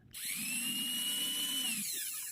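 A Philips blender on the repair bench, switched on at speed 1, spins up abruptly into a steady, close motor whine with a low hum underneath. It runs evenly for about two seconds, then begins to wind down.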